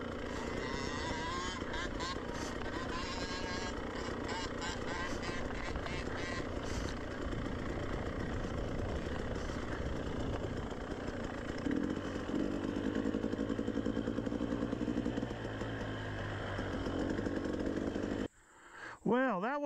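An off-road dirt motorcycle rides down a steep, loose trail with a continuous buzzing engine whine that rises and falls in pitch. It stays fairly near and loud for most of the stretch, then drops off briefly near the end.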